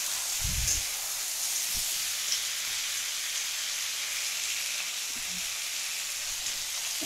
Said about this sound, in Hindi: अब इसके मसाले को फ्राई करेंगे।